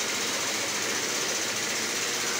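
A pneumatic impact gun hammers loose the crown and pinion nut on an Ashok Leyland bus axle, a loud, dense, continuous rattling burst that fills the whole moment without pause.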